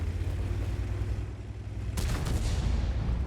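A sharp artillery-style boom in World of Tanks cracks out partway through, followed by a rumbling tail over a constant low engine drone of a T95E6 tank.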